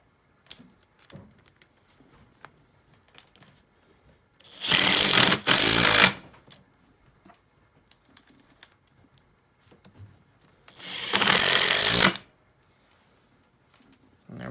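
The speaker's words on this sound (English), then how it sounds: "this is the Makita XDT 14 brushless 3-speed impact driver. And we'll be doing it on full speed" Makita XDT14 brushless 3-speed impact driver running at full speed, two loud rattling bursts of roughly a second each, separated by quiet, with faint handling noises between.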